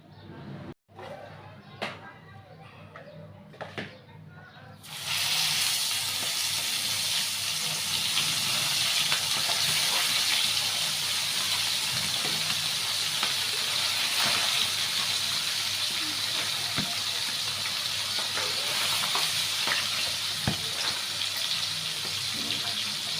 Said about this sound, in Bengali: এই যেটা তোমার ভাইয়ার জন্য ভাইজা রান্না করছি